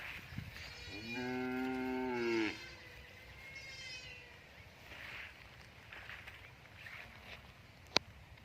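A Charolais cow moos once, loud and close, in a long harmonic low that swells and then breaks off, followed by quieter calls and scattered farm noise at a Thai cattle sale.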